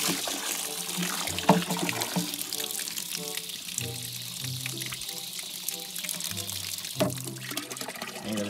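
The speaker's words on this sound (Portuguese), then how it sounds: "vou abrir a água deles aqui" Water runs steadily from a tap to fill the drinking supply for horses, a continuous pouring and splashing stream with a few brief clatters and low thuds mixed in.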